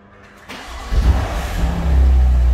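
A BMW M2 CS Competition engine cranks and fires to life, building quickly from a short starter whirr into a deep, loud rumbling idle that holds close and steady afterward.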